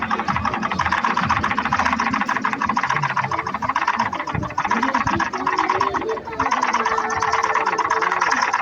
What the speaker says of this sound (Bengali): এখন এই সেলাই দিলাম, এখন রাউন্ড করে সেলাই হবে।